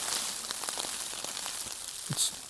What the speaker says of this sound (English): started to rain hard, and it's kind of let up a little bit. It's half rain, half kind of slush.